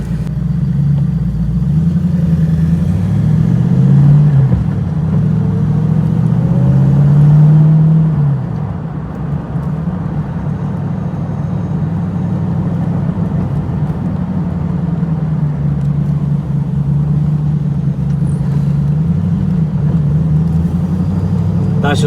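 TVR Chimaera sports car driving on the road, its engine a loud deep rumble heard from inside the cabin, rising and falling with throttle and gear changes as a driver gets used to the clutch.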